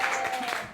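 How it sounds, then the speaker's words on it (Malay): A burst of classroom applause as students clap for a group, a short, dense patter of hands with a voice over it. "Tepuk tangan kepada Inspektor Megure kerana menjawab dengan ayat yang lengkap."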